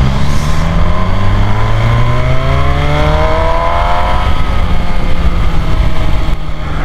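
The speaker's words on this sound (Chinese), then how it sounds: "法拉利的声浪啊！" An MV Agusta Brutale 1000RR motorcycle engine roars loudly up through the revs, with rising whining harmonics sweeping upward for several seconds before easing off, heard up close with no talking.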